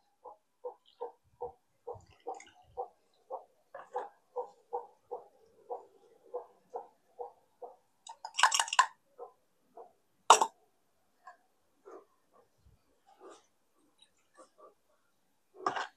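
Water poured into a pipe backs up above a non-return valve, giving a regular series of soft hollow glugs that slow and thin out, with a couple of sharper splashes, and no speech.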